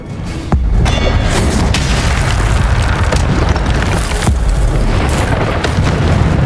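A loud, sustained roaring blast of a fire spell cast in Hogwarts Legacy, a dense rumbling whoosh that swells in after a brief moment and holds steady at full strength with no talk over it.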